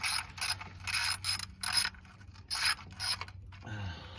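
A ratchet works oil pan bolts loose on a 2003 Mitsubishi Lancer, quick bursts of close metallic clicking separated by short pauses, ending with a brief scraping turn.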